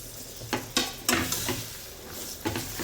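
Boiled potato goes into masala frying in a pan, giving a soft sizzle with several stirring scrapes and light knocks against the pan, close up with no talking.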